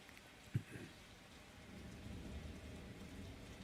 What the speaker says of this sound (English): Yeah, it's raining really hard.